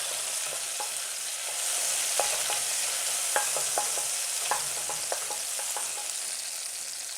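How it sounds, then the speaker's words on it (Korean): Sliced, partly deseeded red chilli stir-fries in a little cooking oil in a pan for a soy-glazed anchovy side dish, with a steady, close hiss of sizzling and scattered light spatula taps and scrapes. "홍고추를 넣으셔서 살짝 볶아주세요."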